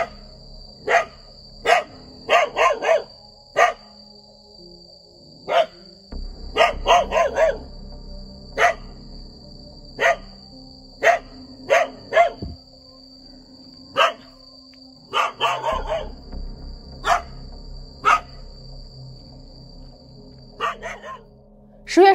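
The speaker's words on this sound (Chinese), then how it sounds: "可为什么狗狗会一直冲着亚麻 Q 狂叫呢？" A neighbour's dog that has slipped its leash barks loudly and insistently outside a wooden house in Japan, firing sharp barks singly and in quick bursts over about twenty seconds, with short pauses between volleys.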